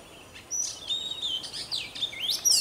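Chè bird calls played from a bird-trapping loudspeaker, a run of bright, quick chirps and whistled trills, moderately loud and without voices.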